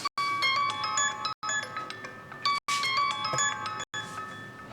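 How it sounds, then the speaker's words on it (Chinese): A mobile phone ringtone plays a bright repeating melodic pattern, loud and close, in evenly spaced bursts separated by brief silences, with no voices over it. "接个电话"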